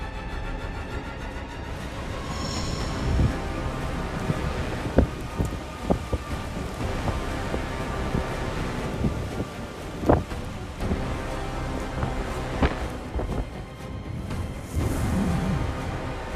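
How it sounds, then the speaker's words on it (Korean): Typhoon Hinnamnor, a very strong storm with peak winds near 49 m/s, drives a steady roar of wind and rain against the microphone, with sharp gusts and knocks breaking through the continuous wash. "역대급 위력의 태풍 흰남노가 한반도를 향해 북상하고 있습니다."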